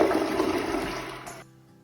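Toilet at a summer camp flushing close by, a loud rushing gurgle of water that fades and cuts off after about a second and a half, with no voices.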